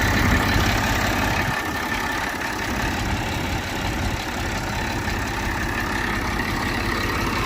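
A diesel tractor engine runs with a cultivator attached on hard farm ground, a steady loud low rumble with a rough, continuous throb and no breaks.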